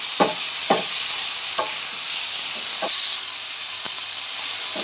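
Onions with ginger and garlic sizzle steadily in a pan while a spoon stirs them in occasional sharp scrapes, all under a constant frying hiss with no talking.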